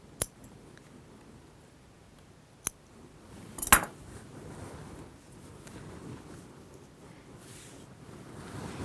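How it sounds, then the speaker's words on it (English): Scissors cut sewing thread while a dress skirt is hemmed. Three sharp, isolated snips come at scattered moments, the third louder, over quiet background. "And cut your beginning thread as well."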